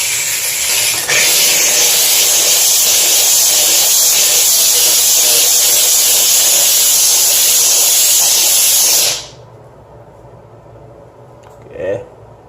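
A HomeRight SteamMachine steam cleaner blasts a bathroom sink with a loud, steady hiss that runs for several seconds and then cuts off abruptly, leaving quiet room tone.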